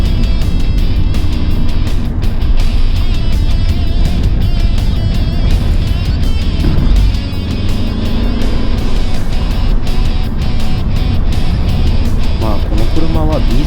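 Mini Clubman Cooper SD diesel car accelerating hard, its engine droning loud and steady throughout under a voice speaking over it.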